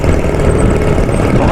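A farm machine's engine idles close by with a steady, loud low rumble and constant vibration, running alone without any voices.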